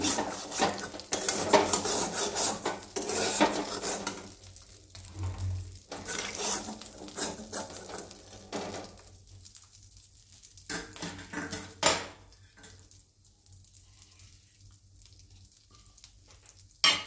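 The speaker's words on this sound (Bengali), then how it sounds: "আমি এই তেলেই ফোড়নটা দিয়ে দিই, আলাদা করে আর তেল দিলাম।" Spices such as dried red chili and cumin seeds hit hot oil in a pan, crackling and sizzling in bursts, with a few clanks of a utensil, then fading to a quieter, intermittent spatter.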